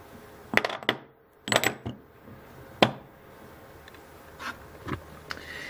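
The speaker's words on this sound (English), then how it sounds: "Now what I'm going to do next is drop in the copper slugs." Four tape-wrapped copper slugs drop into an electromagnet coil, making a series of sharp metallic clinks and rattles in irregular bursts, close and fairly loud against a quiet background.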